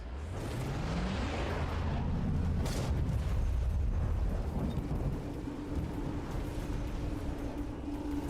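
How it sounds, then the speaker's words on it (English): Lightning strike in a 2 vs 2 strategy video game: a loud, rumbling thunder-like crack and boom that swells over the first few seconds, then a sustained low roar with a steady tone running beneath. "Yep, there's the lightning strike."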